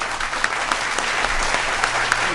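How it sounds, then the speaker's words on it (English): Sustained applause from a late-night stage audience greeting a performer, dense steady clapping that fills the whole moment without a break. "Let's give a nice round of applause for Chip Copa."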